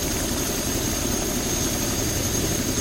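A helicopter engine in the X-Plane 11 flight simulator hums and whines steadily at constant loudness, an unbroken turbine drone with no voices over it.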